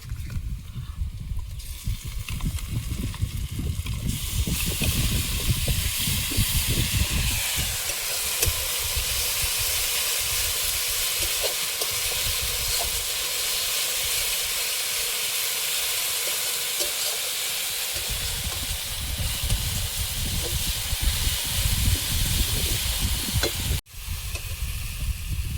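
Ginger garlic paste hits hot oil in a pan for a meat curry, giving a loud, continuous close-up sizzle and steamy hiss with stirring, broken by one brief dip near the end.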